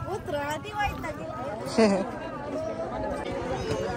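Dense crowd of pilgrims at a temple for Mahashivratri, an unbroken babble of many overlapping voices close around, with one brief louder call standing out midway.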